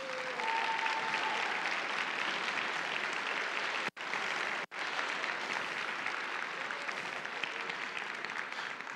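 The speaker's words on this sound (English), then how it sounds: "Please give your mentors a round of applause." Audience applause for mentors at the opening ceremonies of a FIRST Greenwood District event, a dense, steady wash of clapping from a large crowd that cuts out sharply twice near the middle before carrying on.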